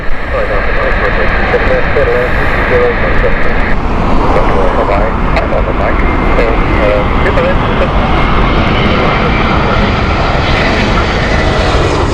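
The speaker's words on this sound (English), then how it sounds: "This is Lufthansa with their Airbus A320 Neo." Lufthansa Airbus A320neo landing at Heathrow, a loud steady engine roar with reverse-thrust rumble sustained throughout, close and dominant, with people talking over it.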